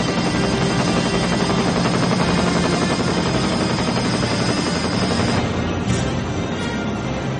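A menacing military helicopter in the action film Rambo: First Blood Part II, a loud steady rotor roar filling the whole stretch, dense and close with no talk over it.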